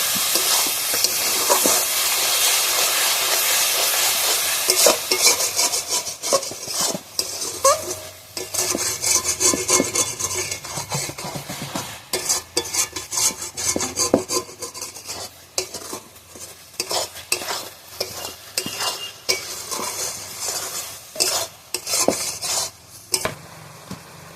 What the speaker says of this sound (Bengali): এইভাবে নারকেলটা আমি এবারে ভালোভাবে নাড়িয়ে নেবো, কড়াতে যাতে না লেগে যায়।